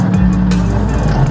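Road traffic on the Buhangin bypass road, with a steady, close rumble of passing cars and engines that stays loud and even through the brief moment.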